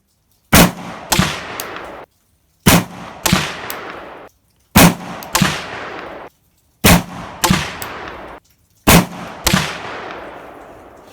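A PSA AR47 7.62x39 pistol with a 10.5-inch barrel firing a five-shot group: five loud, sharp gunshots spaced about two seconds apart, each followed by a decaying outdoor echo.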